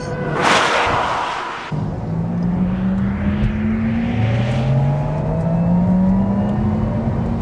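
Synthetic electric motor sound of a 761 hp Porsche Taycan Cross Turismo plays through the car's speakers as it accelerates. Several rising whirring tones climb one after another like gear shifts, preceded by a brief loud rush.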